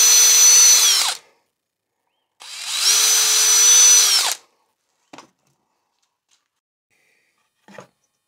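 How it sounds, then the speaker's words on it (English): A power drill bores two holes in scrap timber for a bench hook, two loud whining bursts about a second each, followed by a couple of faint knocks. "Other end, we drill our two holes."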